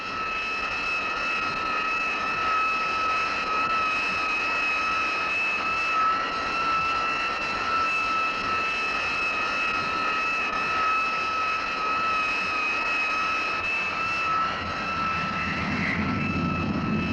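Steady, loud jet engine roar from US Navy jet fighters on a carrier deck preparing for catapult launch, with high whining turbine tones running throughout and a rising rumble at the end.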